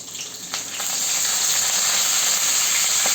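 Garlic and curry leaves, with mustard seeds and cumin, sizzle in hot oil as a tempering for cabbage bhaji; a steady, close hiss that swells after the first second and holds.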